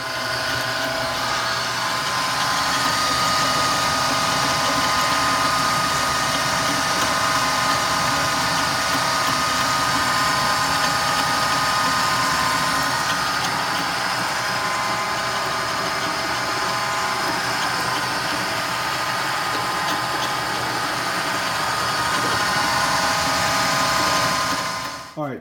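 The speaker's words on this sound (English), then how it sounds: "let me put this piece on the lathe real quick, and we'll turn the threads off that" Metal lathe turning threads off a part for a log furniture tenon cutter, a steady, loud machine hum and whir running continuously before stopping abruptly at the end.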